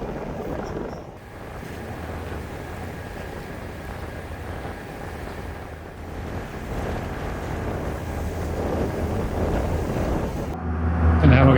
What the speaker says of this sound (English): So this is a ferry that's going to take us over to Iona.